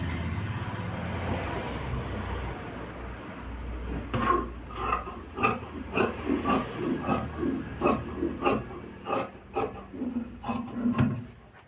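Scissors cutting the armhole of a blouse through fabric give a run of crisp, close snips in an uneven rhythm after a few seconds of quiet room tone, with no talking.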